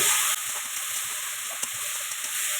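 Vegetables for oats pulao fry in a pan with a steady, close sizzling hiss and faint crackles throughout.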